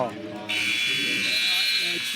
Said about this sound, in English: just before the buzzer.